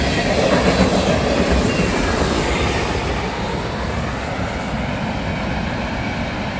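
Southbound manifest freight train with an Illinois Central SD70 and a CN/IC GP38-2, passing close by with a continuous loud rumble, rhythmic clickety-clack of wheels on rail joints and faint wheel squeal.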